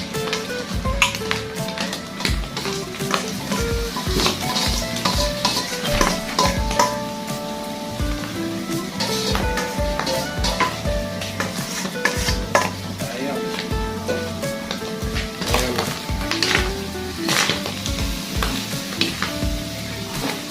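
Pork innards and liver for bopis sizzle steadily in hot oil while a utensil stirs and scrapes against the pan in frequent clinks and knocks, loud and continuous.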